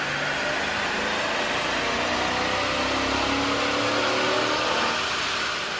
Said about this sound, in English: here's a comparison of the sound of a Chrysler 300C on the dyno with the stock OEM system versus